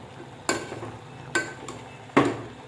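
A spoon stirs mutton in a metal wok (kadhai), giving three distinct clanking scrapes spaced about a second apart, close and fairly loud over a quiet background.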